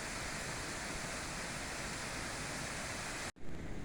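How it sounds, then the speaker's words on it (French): A large waterfall on a mountain trek in the Philippines roars as a dense, constant rush of falling water, loud and close, cutting off briefly just before the end. "Et ça, c'est la surprise du trek. Une magnifique cascade."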